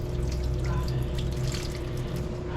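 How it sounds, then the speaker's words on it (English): Tap water runs from a kitchen faucet in a steady, continuous splashing stream, close and fairly loud, with no talk over it. "I use the tap water."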